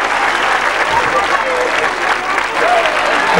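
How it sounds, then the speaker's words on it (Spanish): Steady, loud crowd applause at a street bull-dodging festival in Vinaroz, continuous clapping throughout with faint voices mixed in. "Venga, un fuerte aplauso"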